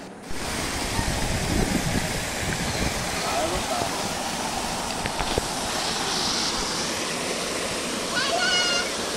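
Rushing water at a waterfall roars as a loud, steady wash of noise for the whole stretch, with voices faintly audible beneath it.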